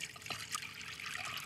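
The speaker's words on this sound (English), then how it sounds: "So cover this with water." Tap water pours over dried beans in a pot to soak them, a steady close splashing trickle with a bright hiss that runs without a break.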